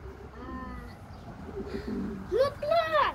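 Pigeons or doves coo softly in a backyard coop, low rolling calls near the start, while a child and an adult talk nearby and a higher bird-like voice rises near the end.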